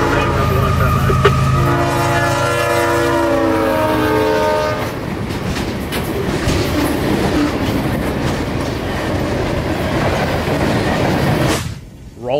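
A freight train in Central Florida near Richland sounds its horn in long chords for several seconds, then rolls past with steady rumbling, wheel clatter and rail noise that fades near the end.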